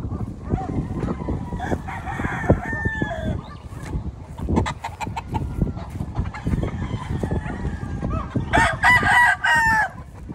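Several roosters crow over a busy farmyard with clucking hens, the calls overlapping, with a loud burst of close crowing near the end.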